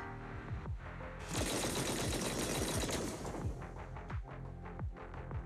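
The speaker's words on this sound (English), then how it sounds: "That was the sound of a heavy cannon?" Heavy cannon fire in the video game Zenless Zone Zero: a dense, loud burst of rapid booming blasts lasting about a second and a half, followed by scattered heavy thuds and rumbling impacts.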